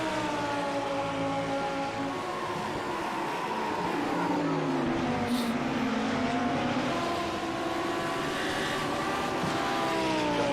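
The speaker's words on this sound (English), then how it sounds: "So Rosen still leads then from McEwen as they go 3 wide into turn 1." GT race cars on Road Atlanta in iRacing roar together in a pack, engines whining and shifting in overlapping tonal bands across the whole stretch, loud and continuous with no break.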